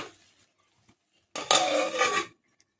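A short metallic scrape and clatter as a lid is set onto a pan of paneer bhorta on the stove. It is a single close burst lasting about a second, preceded by a faint voice.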